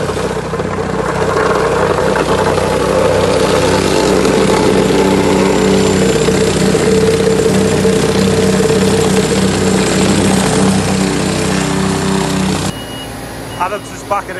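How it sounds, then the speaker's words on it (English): A combine harvester's diesel engine rumbles steadily and loudly nearby as it backs out of a farm shed, with a constant low drone before cutting off near the end. "just backing the combine out"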